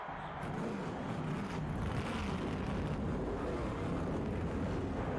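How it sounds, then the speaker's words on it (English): Several race car engines in a NASCAR Thunder 2003 video game fire up and settle into a steady, dense mechanical roar that holds at an even level for the full length, with no talking. "Gentlemen, start your engines."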